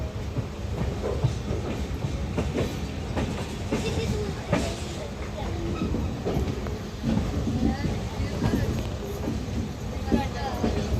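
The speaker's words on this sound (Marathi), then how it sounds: "बघू शकता ट्रेन निघालेली आहे दिवा पॅसेंजर" A Diva passenger train in the Konkan region rumbles along with rhythmic clickety-clack of wheels on the rails, steady and close, with faint voices in the background.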